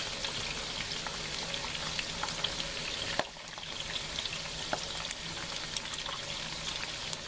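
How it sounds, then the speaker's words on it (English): Steady sizzling of pork skins frying in hot oil for cracklins, peppered with frequent sharp pops and crackles, close and continuous with no talking. "Y'all hear that popping in and sizzling? It sounds a lot like cooking bacon."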